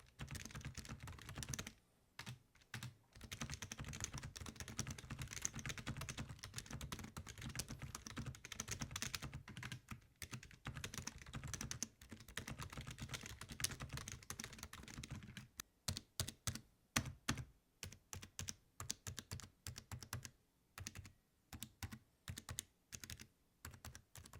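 Continuous typing on a GamaKay LK75 mechanical keyboard with ultra-silent tactile switches, muted, soft keystrokes in rapid bursts, with short pauses between runs of clacks.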